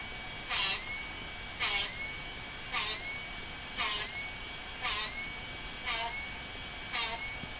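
Darex Drill Doctor 750X sharpening a drill bit, giving seven short, evenly spaced bright grinding whirrs about a second apart, each a brief buzz of abrasive contact as the bit is rotated in the sharpening port.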